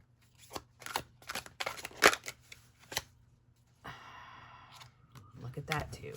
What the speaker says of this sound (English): Okay, there's a good shuffle